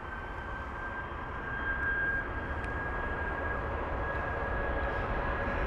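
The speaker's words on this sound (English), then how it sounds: "this next jet, which is going to be the Airbus A319" Steady, loud jet engine roar of an Airbus A319 at London Heathrow, a continuous broadband rumble with a faint high whine, swelling slightly as the aircraft passes, no voices.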